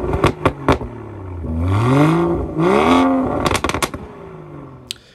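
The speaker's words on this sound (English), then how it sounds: "give you a quick taster of how the car sounds" A car engine idles with sharp clattering bursts, then revs up twice in long rising and falling sweeps before dropping back to a rough, popping idle, close and loud.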